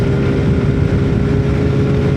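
A Yamaha NMAX scooter engine revs steadily up close while shifting gears, giving a loud, continuous buzzing drone with no talk.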